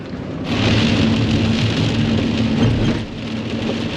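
Steady rain hisses outside, a constant wash of patter with a low rumble underneath.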